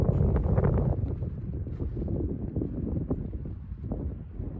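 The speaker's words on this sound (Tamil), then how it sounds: "நல்ல காற்று அடிக்குது." Strong outdoor wind in Denmark roars as a steady low rumble of gusts against the microphone, loud and continuous with no voices.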